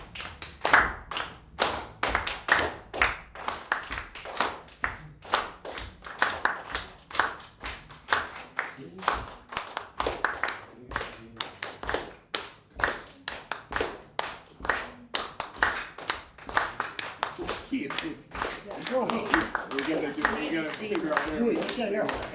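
A group claps rhythmically in a library music session on American roots music, sharp repeated hand strikes in a steady pulse with some variation, while voices talk and sing over parts of it.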